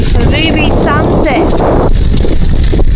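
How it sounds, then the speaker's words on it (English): Strong wind buffets at a beach campsite on the Eyre Peninsula, a loud continuous roar throughout, with bird chirps briefly audible in the first half. "even though it's a bit windy"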